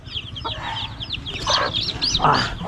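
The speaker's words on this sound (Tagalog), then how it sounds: "Kita nyo naman itong mga sisiyo ko mga kabungot" Chicks chirp in quick, high, bending peeps scattered across the moment, with a few louder bursts of clucking from nearby chickens mixed in, steady and close.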